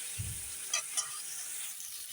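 A spice paste (masala) fries in oil that has separated, giving a soft, steady sizzle with a low knock and a couple of faint stirring scrapes.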